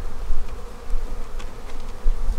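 Honey bees buzz in a loud, continuous drone with no voices, close and dense, swelling slightly at moments, at an opened hive in 25°F cold.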